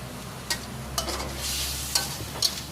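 Oyster sauce added to a Thai basil beef stir-fry in a hot pan, soft steady sizzling with a few distinct scraping stirs from a utensil, close and moderately quiet.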